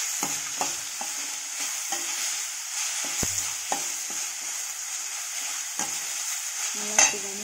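Big gooseberries stir-fried in a pan give off a soft, steady sizzle, with repeated clicks and scrapes as a spoon stirs them at irregular intervals.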